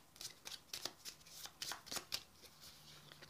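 A deck of cards for the board game Above and Below being shuffled, a run of quick crisp riffling bursts in an irregular rhythm, close and fairly quiet.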